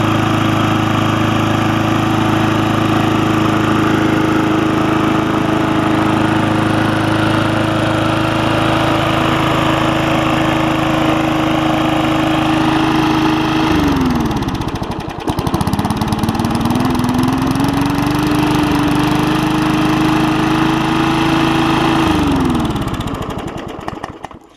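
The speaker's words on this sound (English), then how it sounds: "Not bad for a cheap mower, I would suppose." A cheap, rusty Murray 3.5 Classic push lawn mower engine runs loud and close with a steady drone, dipping briefly twice as the revs fall and recover, with no talking.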